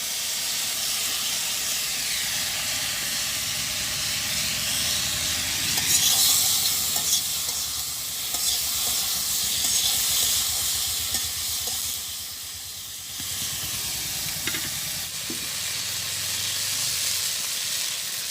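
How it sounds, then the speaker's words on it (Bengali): Prawns in a pan give a loud, steady sizzle and hiss of frying, continuous and close with faint stirring scrapes throughout. "এখন চিংড়ি মাছটা দিয়ে দিই।"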